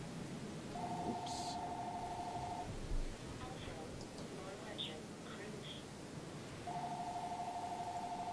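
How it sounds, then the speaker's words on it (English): A telephone rings twice during a tabletop role-playing game session. Each ring is a quiet, trilling electronic tone lasting about two seconds, with a long gap between them and faint room noise. "Appear to have a phone call."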